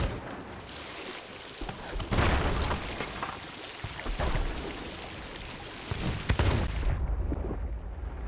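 Gunfire at a ship in the Sea of Thieves video game, with loud bursts and booming impacts over a constant rushing wash of sea and weather noise that suddenly drops away near the end.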